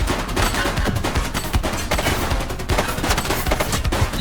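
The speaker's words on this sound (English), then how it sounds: "She's shooting!" Rapid gunfire from The Precinct rattles in dense, repeated bursts of sharp shots, loud and close, continuing throughout.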